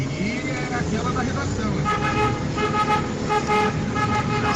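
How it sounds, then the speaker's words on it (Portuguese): Several car horns honk repeatedly in bursts over busy traffic noise, with voices talking underneath. "Eu acho que buzinaram pra ele. Pelo barulho, buzinaram pra ele."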